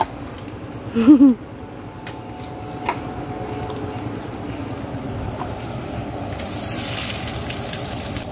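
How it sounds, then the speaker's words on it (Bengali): Carrots, capsicum and beans frying in a pan in a home kitchen give a steady crackling sizzle throughout, with a brief louder burst near the start. "ক্যাপসিকাম, বিনস সব ফ্রাই করা চলছে।"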